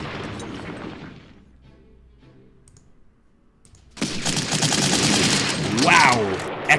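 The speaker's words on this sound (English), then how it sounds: "let's provide some artillery support" Artillery fire in the Panzer Corps strategy game: after a quiet stretch, a loud, dense barrage of booms and rattling shots erupts and continues to the end.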